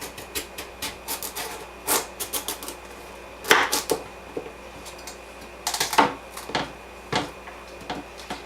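A knife slices a squash in half crosswise on a board, giving a series of sharp, close cuts and knocks spaced out irregularly, each followed by brief scraping as the blade moves through the flesh.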